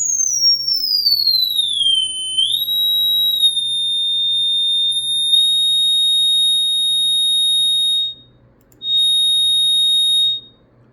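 High-pitched electronic whine from a 250W amplifier driving a weak 2.5 ohm nickeline load, sweeping down then holding a steady piercing tone, cutting out briefly and returning near the end over faint low hum.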